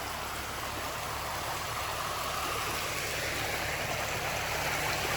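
Water from a half-acre pond draining slowly down toward a ravine, a steady broadband rushing and trickling wash, constant and moderately close, with no talk over it.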